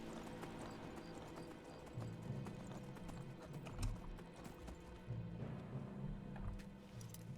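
Horse hooves clip-clop at a steady walking rhythm in Skyrim, soft and continuous over a low game ambience, with no voices.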